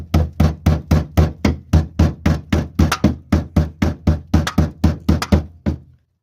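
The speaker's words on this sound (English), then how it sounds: "What we do is we grab a big hammer. We got a big hammer. And then you just start beating on it." A big hammer pounds the fender lip of a BMW E39 drift car in a steady run of about twenty loud, close metallic knocks, evenly spaced, before stopping abruptly.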